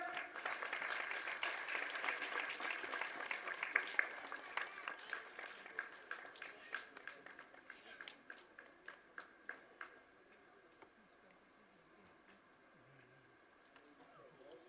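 Applause at a school Foundation Day prize ceremony, starting fairly full and then thinning into a few scattered, separate claps that fade out toward the end, somewhat distant and quiet.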